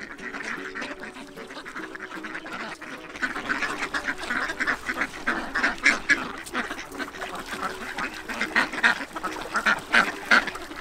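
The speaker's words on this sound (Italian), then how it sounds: "è divertente da mangiare alle anatre" A flock of ducks quacking busily while being fed at a spring, a dense overlapping chorus of close, rising calls that grows louder and more excited.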